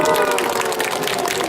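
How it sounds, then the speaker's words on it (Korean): Audience applause at a robot demonstration of the DRC-Hubo humanoid, a dense, steady wash of clapping lasting a brief moment without a break. "여러분들 무사히 찍지 않으면 박수 한번 쳐줄래요?"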